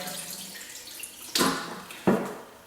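Tap water splashes in a sink while a brined turkey is rinsed before smoking on a Big Green Egg, with two sharper splashes over a steady running background.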